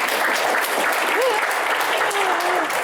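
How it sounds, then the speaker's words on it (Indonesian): Audience applause for the Attorney General of Indonesia at an evening Q&A event, steady broadband clapping sustained throughout, with faint voices or cheers rising over the crowd. "Kita berikan tepuk tangan yang paling meriah untuk Bapak Sanetiar Burhanuddin"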